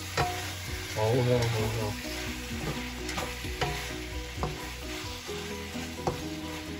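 White bitter melon, basil and shrimp stir-fried in a wok, a loud steady sizzle with clanking spatula strikes and tossing scrapes, while a voice speaks briefly over it.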